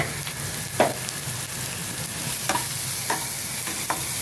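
Onions frying in a pan with salt and turmeric, a loud, steady close sizzle broken by a few sharp scrapes of a spoon stirring.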